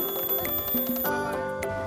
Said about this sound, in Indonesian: Dan ternyata itu adalah suara kolecer atau baling-baling.